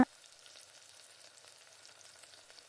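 Kara kuzhi paniyaram batter cooks in a paniyaram pan over a low flame, giving a steady, soft, even sizzle with faint crackles throughout and no talk.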